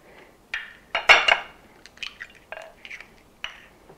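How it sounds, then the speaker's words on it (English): Eggs whisked by hand in a bowl while making fried mashed potato balls, a series of clinking metal-on-bowl strikes in uneven bursts, close and fairly loud, with no talking. "And I'm going to whisk these."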